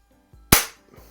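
A single sharp crack from a Hatsan Jet 2 .177 air rifle rings out close by, a loud, abrupt report that fades quickly, with faint low thumps before and after and no talking.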